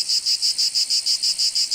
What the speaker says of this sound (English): Spring is bringing us another visit from the cicadas